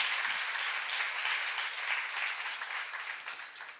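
A seminar audience in a church setting gives faint, distant applause, a soft continuous wash of clapping that holds steady and then tapers slightly.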